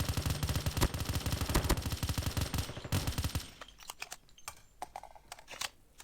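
Rapid automatic gunfire while shooting an enemy in an online Alcatraz-mode shooter game, a dense burst of close, loud shots for about three seconds, then scattered single shots and clicks fading out.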